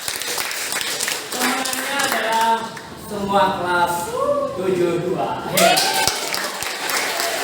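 Students in an elementary classroom lesson clap together in short bursts at the start and end, while a teacher's voice talks clearly over and between the clapping.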